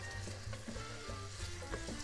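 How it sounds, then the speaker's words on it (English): Onions sizzle steadily while sautéing in a hot pan, a continuous close crackle and hiss with no voices over it. "you can hear that sizzling away"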